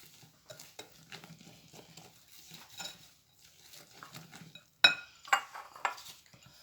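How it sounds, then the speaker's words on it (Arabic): A spoon stirs mini cake batter in a bowl, with soft scraping strokes repeating through the clip and a sharper clink of the utensil against the bowl near the end. "دابا تحركوا مزيان."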